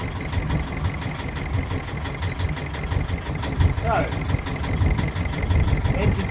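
A Yanmar sail-drive boat engine runs at a steady idle after starting, a continuous low rumble throughout, close and fairly loud, with a person speaking briefly over it.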